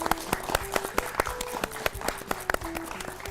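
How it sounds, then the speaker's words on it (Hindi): Clapping at a classroom-style quiz show after a correct answer, rapid sharp claps from a small group, close and fairly loud, with a voice speaking over them. "बिल्कुल सही जवाब, तालियां तालियां तालियां।"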